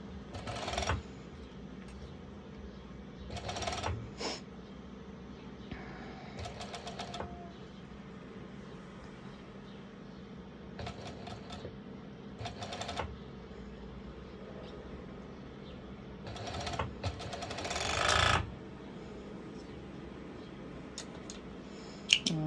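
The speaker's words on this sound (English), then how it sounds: "I am going to serge it" A serger overlocker stitches lycra swimsuit fabric to its lining in several short, quiet whirring runs separated by pauses, set in a low room hum.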